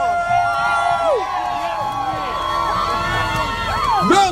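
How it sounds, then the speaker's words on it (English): Marchers at an outdoor anti-racism protest on a freezing day cheer and whoop, voices overlapping in a loud continuous crowd roar with shouts rising near the end. "Give yourselves a round of applause."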